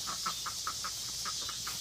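Backyard ducks waddle toward their coop at bedtime, giving a quick run of soft, rhythmic quacks and clucks about every fifth of a second against a steady background hiss, fairly faint and close.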